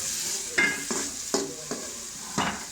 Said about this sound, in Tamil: இதை நான் கொஞ்சம் நேரம் ஒரு 2 மினிட்ஸ் நல்லா வதங்கட்டும்